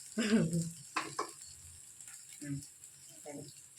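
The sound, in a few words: jalebi frying in oil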